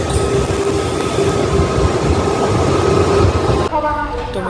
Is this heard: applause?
no